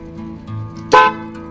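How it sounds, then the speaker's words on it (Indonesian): A car horn wired through a 5-pin rocker switch gives one short, loud honk when the switch is pressed, set against a low steady hum. "pada saat kita pencet, klakson berbunyi, lampu indikator di sini juga menyala"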